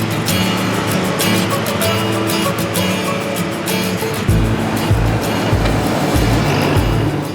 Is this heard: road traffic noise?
yes